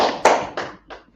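A class clapping for a few seconds, three quick bursts of hands coming together, the first loudest and the rest fading out.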